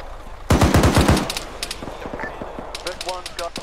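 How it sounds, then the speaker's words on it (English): Rapid bursts of automatic gunfire in the ArmA 3 military game, loud and close, with several quick shots followed by scattered distant reports while voices talk over the radio. "I believe we got shots east."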